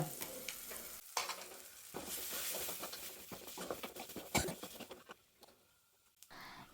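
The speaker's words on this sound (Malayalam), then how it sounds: "പച്ചമണം മാറുന്നവരെ നമുക്കൊന്ന് വഴറ്റിയെടുക്കാം കേട്ടോ" Onions sautéing with coriander, turmeric and chilli powder: a quiet sizzle under repeated scraping and stirring strokes, irregular and close, easing off near the end.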